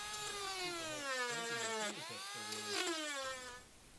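A grinding tool trims plastic on a VW MK7.5 GTI rear diffuser, giving a steady high-pitched whine that rises and dips in pitch as it cuts, close and alone.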